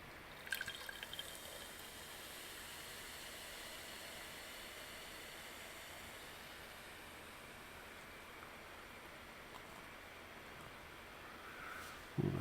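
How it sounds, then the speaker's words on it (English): Kronenbourg Blanc beer is poured badly into a glass at home, giving a faint, steady liquid hiss and fizz that runs on alone with a few soft drips and clinks. "Oh, that's a very badly poured glass of beer."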